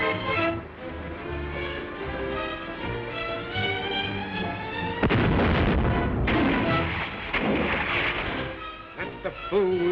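Gunfire in a 1936 film serial: dense, loud bursts of shots or blasts break in halfway through and continue over dramatic orchestral music.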